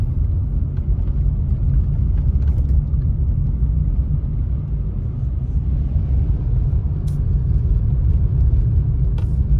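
A car driving a long stretch through heavy, fast-falling November snow, heard from inside as a constant loud low road and engine rumble, with a few faint ticks on top and no talk.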